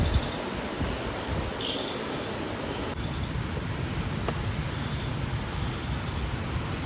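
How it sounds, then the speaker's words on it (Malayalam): Strong wind roars through a rainy forest around a tent campsite, a steady, dense rush of broadband noise that stays loud and unbroken throughout, with no voices. "കാരണം കാറ്റ് അത്രക്ക് സ്ട്രോങ് ആണ്."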